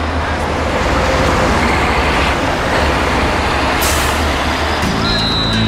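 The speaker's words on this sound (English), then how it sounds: "Oh, come on, the garbage truck" Garbage truck with air brakes on a city street, a loud continuous engine and roadway roar with a sharp brake hiss near the end, close by.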